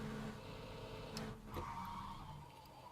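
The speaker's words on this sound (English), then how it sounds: "I hear a car coming." A car in PUBG, the video game, drives past with a steady engine rumble and then skids, a short tire screech cutting through near the middle before the motor noise carries on.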